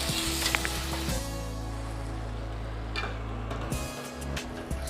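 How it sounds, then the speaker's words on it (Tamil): Tomatoes sautéing with softened onions in a pan for a village-style pepper intestine fry, a steady low sizzle with light stirring clicks, fairly quiet and continuous with no talk. "வதங்கினோடனே இப்போ நம்ம தக்காளி போட்டுருக்கோம்"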